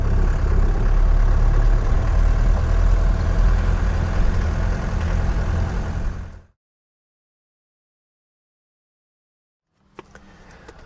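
A Mercedes W115 220D diesel car drives with a steady, loud low engine drone for about six seconds, then cuts off to silence, followed by a few faint clicks near the end.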